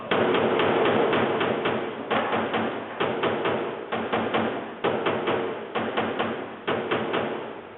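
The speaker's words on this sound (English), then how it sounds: "So watch when I hammer on this spot." Repeated hammer taps on a 1962 Impala's car body panel, close and loud, coming in quick clusters of hits with brief pauses between them.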